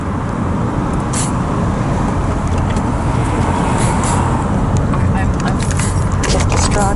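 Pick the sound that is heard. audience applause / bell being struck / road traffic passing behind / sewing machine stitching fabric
road traffic passing behind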